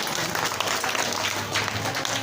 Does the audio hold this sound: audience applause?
yes